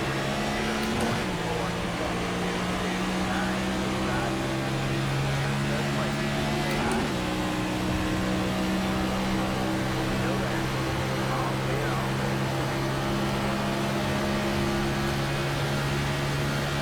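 Stock car engines in an iRacing NASCAR esports race at Chicagoland drone steadily at a constant pitch, a dense background hum with a couple of brief dips in tone as cars run behind the pace car.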